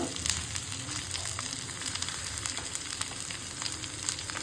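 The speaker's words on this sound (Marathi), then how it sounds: "आता आपण जिरं आणि लाल मिरच्या टाकू" Cumin with Kashmiri and lavangi red chillies frying in hot oil, a steady close sizzle with fine crackles and pops running the whole time, and no talking.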